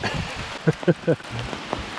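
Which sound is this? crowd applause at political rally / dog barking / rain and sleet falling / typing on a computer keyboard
rain and sleet falling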